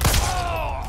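Gunfire in the video game Resident Evil 4, a loud booming shot with a rolling echoing tail that fills the brief moment, heard close.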